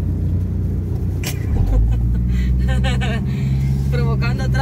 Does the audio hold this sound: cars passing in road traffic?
yes